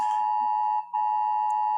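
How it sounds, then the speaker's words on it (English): A nationwide emergency alert test tone sounds as a single loud, steady electronic beep held for nearly two seconds, with only a brief dip in the middle. "it was a nationwide alarm, emergency alarm, just testing it"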